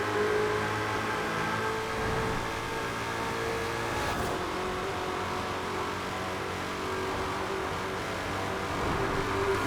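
A Ford Mustang Shelby GT500 in Forza Horizon 4 drives fast down a motorway, its engine holding a steady, loud drone with constant road and wind roar throughout, no voices.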